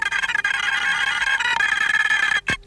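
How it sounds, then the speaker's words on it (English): Recorded music sped up eight times on a special tape recorder comes through tiny loudspeakers as a dense, continuous high-pitched chirping wash, ending with a brief sharp sweep. "The tape is put on a special tape recorder and played back 8 times faster than the speed it was recorded."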